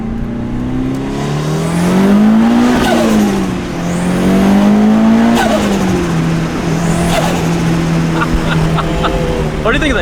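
A Mitsubishi Lancer Evolution engine and exhaust pull hard and loud nearby, the pitch rising and falling through repeated gear changes as it accelerates, with people's voices briefly over it.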